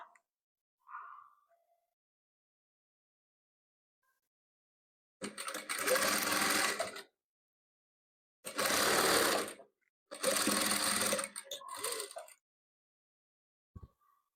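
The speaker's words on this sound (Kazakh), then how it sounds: "Міне құрағымызды тігіп болдық." A sewing machine stitches patchwork quilt squares in three bursts of steady whirring, each a second or two long, close and clear with silence between them.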